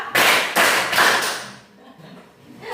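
A class of students clapping together in a rhythm game: three sharp, loud group claps in steady succession, then the sound fades to quiet room noise.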